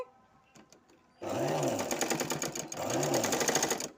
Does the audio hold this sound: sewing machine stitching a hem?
yes